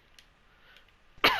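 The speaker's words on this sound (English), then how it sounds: "I'm coughing." A single short, sharp cough erupts near the end after near silence, close to the microphone, from a podcast host.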